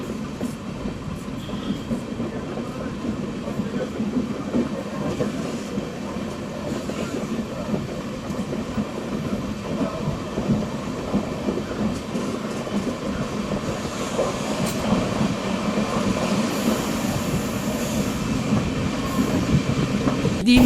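Amrit Bharat express train running through rural Kerala, a steady rumbling roll with rhythmic wheel clatter heard from on board, growing slightly louder toward the end.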